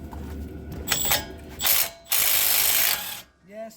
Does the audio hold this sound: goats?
no